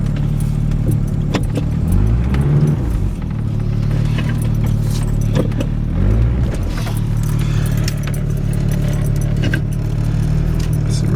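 A 1991 Chevy S10 pickup with the 2.5 engine and 332K original miles pulls out of deep snow, its engine droning loudly and steadily throughout, with revs swelling and dipping as the tires find traction.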